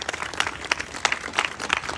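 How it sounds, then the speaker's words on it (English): Audience applause at a rally at the state Capitol, a steady patter of many hands clapping close by for a couple of seconds, with no talking over it. "Let's all give Lynn another round of applause for that powerful story."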